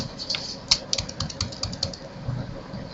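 Keyboard typing, a quiet run of light irregular key clicks at close range over faint room noise, with no speech.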